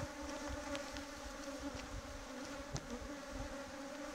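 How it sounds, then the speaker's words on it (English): A steady swarm of bees drones continuously, a dense, even buzzing with occasional brief clicks, fairly faint and without any voices. "these are African killer bees."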